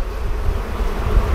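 Honeybees swarm in a steady, dense buzz during an open hive inspection, loud and close throughout with no voices.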